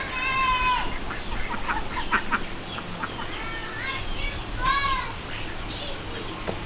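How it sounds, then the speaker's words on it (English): Ducks quack in short nasal bursts in a backyard, a few calls rising over a busy outdoor background with voices and movement nearby. "Here's our 2 ducks."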